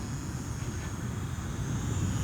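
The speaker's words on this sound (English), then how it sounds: "This airplane really likes to fly with the throttle." EAZYRC PA-18 Super Cub, a beginner four-channel radio-controlled plane, flies steadily under throttle, its small motor a continuous buzzing drone laid over rough outdoor wind rumble.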